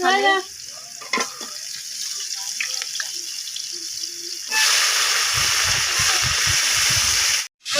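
Green chilies and chopped onion sizzle in soybean oil in a wok, a loud steady frying hiss that swells in the second half, with scraping and clinks from stirring and a brief drop near the end.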